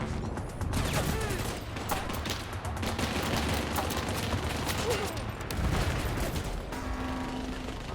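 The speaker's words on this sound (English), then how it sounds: "Oh, I'm being shot at from that direction." Rapid bursts of gunfire in the CrossfireX campaign, played on Xbox Series S, crackle in dense volleys with heavy thuds throughout, and a voice speaks briefly over the shooting.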